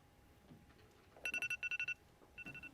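A classroom timer goes off after ten seconds with a run of rapid electronic beeps in two bursts, then a shorter third burst, over a faint room murmur.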